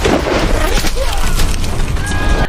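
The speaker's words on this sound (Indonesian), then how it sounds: "salah satu sniper musuh berhasil menembak tim yang berada di menara" A sniper rifle gunshot in a war film set in Afghanistan, a loud booming blast with a crashing tail in a dense, noisy movie soundtrack.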